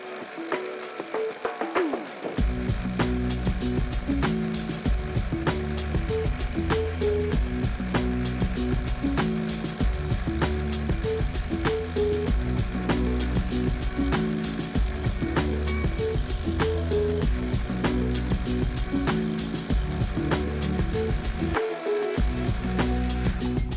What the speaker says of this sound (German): Ich werde jetzt mit voller Energie mal ein, zwei schöne Löcher bohren in unseren alten Autobahn-Poller.